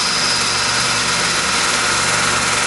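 A Tormach PCNC 1100 Duality lathe turning a part, a steady machine hum with a constant whine and a low drone, continuous and fairly close, with no talk.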